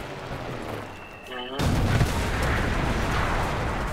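A sudden loud bomb blast in the World War II shooter Enlisted cuts in after a quieter stretch of distant rumbling, followed by sustained heavy noise and debris.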